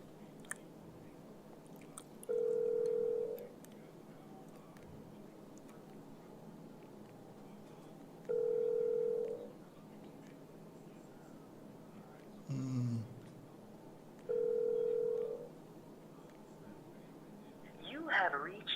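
A phone call rings back through a line with three evenly spaced steady tones several seconds apart, faint and thin against a quiet room, with some low chewing-like noises in between.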